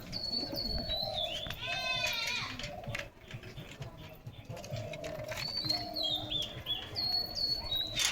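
Pigeons at a nest with a pair of eggs give soft coos and short chirping calls. The calls come close and quiet, recurring over low background noise.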